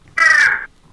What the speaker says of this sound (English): That noise is just my crows in the tree outside.